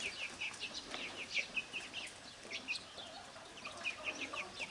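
Hens in a garden enclosure cluck and squawk in short repeated bursts, moderately close over a quiet outdoor background, with no speech.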